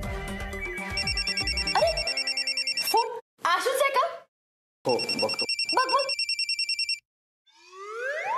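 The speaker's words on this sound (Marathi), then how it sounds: "आईचा फोन।" An incoming call rings on a mobile phone in an indoor comedy scene, with loud, repeating electronic ringtone bursts that pause briefly between phrases; someone speaks a few words over it.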